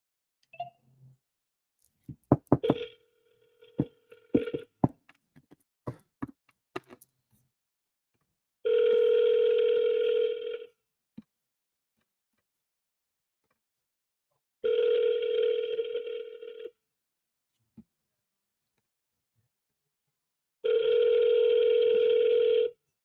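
An outgoing telephone call ringing unanswered, with brief handset clicks and taps, then three long ring tones about six seconds apart, each lasting around two seconds, separated by silence.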